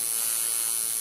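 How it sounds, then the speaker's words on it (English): A tattoo machine buzzes in one steady, bright electric drone with a high whine, close and constant, and no voices. "This is the sound of tattoo needles tearing human flesh."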